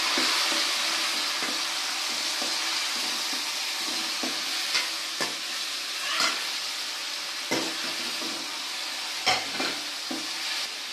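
Onions and tomatoes frying in oil for a Nellore mullet fish curry, a steady close sizzle broken by scattered sharp scrapes and clinks of stirring, with no voices.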